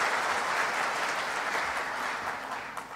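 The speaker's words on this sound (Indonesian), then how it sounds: "Mungkin perlu diberikan tepuk tangan untuk semuanya." Sustained applause from an audience at an Indonesian official government event, a dense wash of clapping at even loudness that tapers slightly near the end, with no speech over it.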